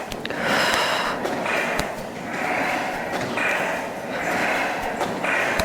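Deep breathing during a Pilates reformer exercise, loud rhythmic breaths close by that rise and fall in several cycles, with soft thumps from the machine.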